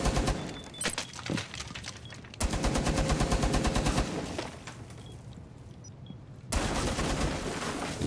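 Gunfire in a Ubisoft multiplayer shooter comes in several rapid automatic bursts separated by quieter pauses. The shots are fairly close and sharp, and no voices are heard.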